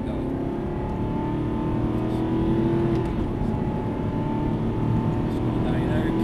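Aston Martin car accelerating away, a loud, steady engine drone filling the whole stretch with a slight rise in the middle, under an instructor talking in the cabin.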